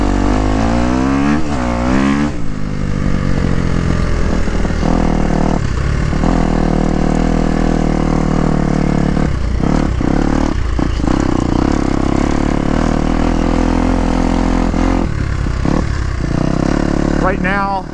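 A Kawasaki KX250X dirt bike ridden at practice, its engine droning loud and close with rising and falling revs as it accelerates and shifts, continuous throughout, with a voice briefly heard at the start.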